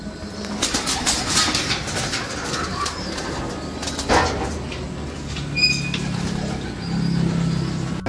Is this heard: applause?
no